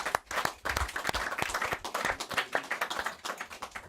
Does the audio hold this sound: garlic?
no